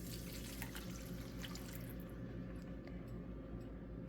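Water poured from a container into cooked taco meat in a pan, a steady close splashing and hissing stream running throughout, with a faint sizzle underneath.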